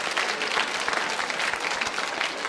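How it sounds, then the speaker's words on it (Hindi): Loud, continuous applause from a school audience at a quiz show, dense clapping that holds steady throughout, with some faint crowd murmur underneath. "तालियां जोरों से बजाइए, जोरदार तरीके से बजनी चाहिए।"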